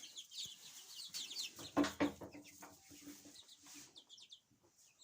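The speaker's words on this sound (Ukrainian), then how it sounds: "А ось тут у нас у сусідньому станочку знаходяться курчатка." Small birds peep and chirp in quick, high bursts, with a few lower clucks mixed in, fairly close and busy.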